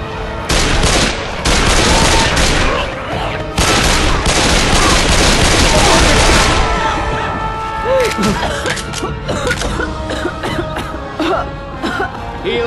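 Loud, dense gunfire in Left 4 Dead 2, with rapid overlapping shots in the swamp for about six seconds, then scattered bursts and a brief voice.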